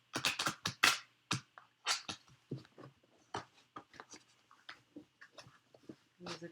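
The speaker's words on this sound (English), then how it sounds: "I need to be out of the frame for a second because I got to give this a good shuffle." A deck of tarot cards is shuffled close up, giving a series of quick, crisp rustling and slapping bursts in irregular clusters, loud at first and then softer, with no talk over it.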